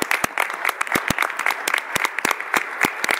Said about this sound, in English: How about a nice round of applause for all of our outgoing board members?